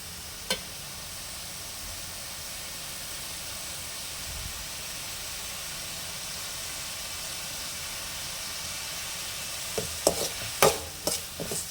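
Ginger and garlic frying in a pan for egg fried rice, a faint steady sizzle and hiss with a few sharp clinks of stirring near the end, no talk.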